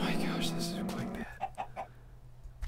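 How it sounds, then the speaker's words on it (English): Three quick clucks from a chicken in the video game Minecraft, close and fairly quiet, following a stretch of talk and other game noise at the start. "I'm just gonna get the chicken into my house"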